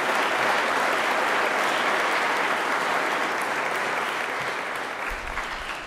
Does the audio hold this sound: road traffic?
no